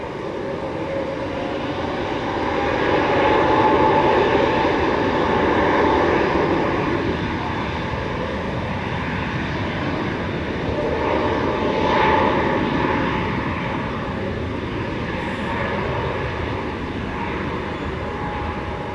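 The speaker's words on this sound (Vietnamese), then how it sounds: "Còn bây giờ thì chiếc máy bay Airbus A320 của Qingzhou được lệnh cất cánh." An Airbus A320 takes off at Tan Son Nhat airport, its jet engines producing a loud, sustained roar that swells and then eases off as it carries on.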